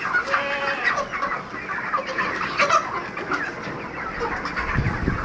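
Several 35-day-old chickens, mostly hens, cluck close by, overlapping soft calls against a busy farmyard background.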